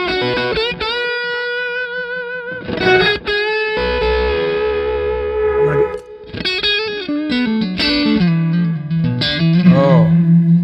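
An electric guitar with humbucker pickups plays through an LSL effects pedal, loud distorted chords and sustained notes with chorus and echo, swelling and breaking off in phrases over about ten seconds.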